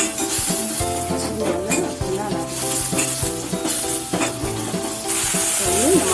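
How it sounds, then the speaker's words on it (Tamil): Tomato masala for a cauliflower and pea dish frying and being stirred in a pan, a steady loud sizzle with repeated scraping strokes of a spoon, up close and without talk. "நல்லா தக்காளி நல்லா கலந்து வரும்."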